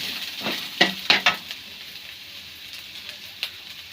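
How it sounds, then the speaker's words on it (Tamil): Half-crushed garlic is sautéed in a pan, a moderate sizzle broken by several sharp spatula scrapes and stirs early on, then a quieter steady frying hiss with no talking. "பூண்டு ஒன்று பாதியமாக அரைச்சிருந்த நல்லா வதக்குங்க"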